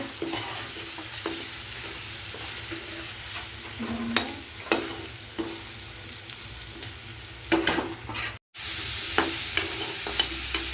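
Chopped onion and bay leaf fry in a pan with a continuous close sizzle, broken by scraping stirs of a spoon against the pan, and no one speaks.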